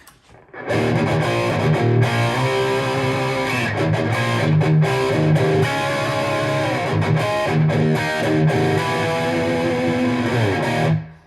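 EVH 5150 guitar amplifier with its distortion set around 40 percent, an electric guitar playing a steady stream of thick, crunchy, heavily saturated chords and riffs, loud and sustained with no voices.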